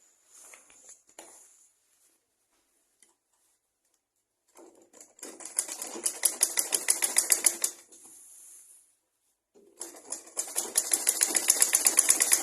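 A sewing machine stitches kimono fabric in two close bursts of rapid, even needle clatter, separated by short pauses and quiet handling of the cloth.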